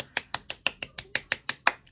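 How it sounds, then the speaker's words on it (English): Children in a church celebration service clap in unison, about ten crisp, evenly spaced claps in a steady rhythm, close and fairly quiet with no talk. "Give them a clap."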